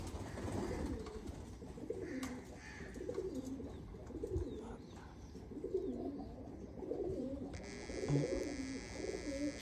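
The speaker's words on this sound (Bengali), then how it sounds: "এই হচ্ছে কবুতরগুলো, সবগুলা খুবই সুন্দর।" Teddy pigeons with crests cooing in soft, low, repeated throaty rolls, close by and faint, with a brief higher tone near the end.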